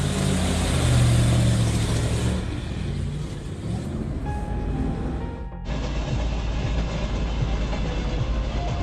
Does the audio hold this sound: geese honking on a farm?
no